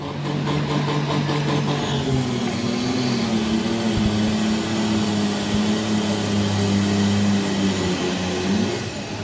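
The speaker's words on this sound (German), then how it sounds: "Ladedruck wird aufgebaut. Drei Jahre Bauzeit stecken in dem Schlepper." A diesel pulling tractor in the 3.5-tonne sport class at an Anholt tractor-pulling event revs loud and steady, its engine droning as boost pressure builds with a rising whine layered over the roar.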